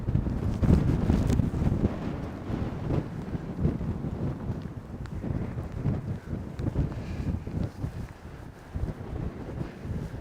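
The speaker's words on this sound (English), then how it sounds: "Quite a wind here. Quite a wind." Strong wind gusting across a microphone outdoors at Maizuru Park in Fukuoka on a snowy day, a loud, continuous buffeting rumble with fluctuating gusts and no voices.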